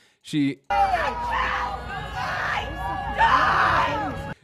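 A woman screams at the top of her lungs in long, loud, sustained wails with rising and falling pitch, after a brief shorter cry at the start, close and dominating.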